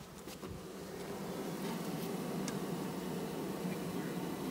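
A dense, steady buzzing hum of many honeybees inside a hive box close by, continuous and even, with a few faint clicks at the start.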